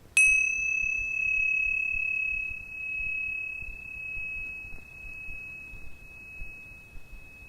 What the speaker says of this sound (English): They're called tingsha bells, and they make a very clear sound.